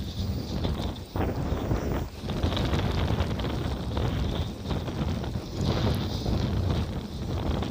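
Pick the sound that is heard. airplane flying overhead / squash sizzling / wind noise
wind noise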